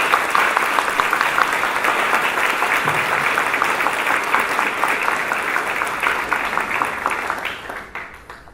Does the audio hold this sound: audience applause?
yes